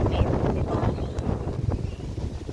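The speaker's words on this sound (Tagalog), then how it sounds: "Parang di ako makalakad sa lakas ng hangin." Strong wind buffets the microphone in a steady roaring rumble, with gusty low-frequency thumps throughout.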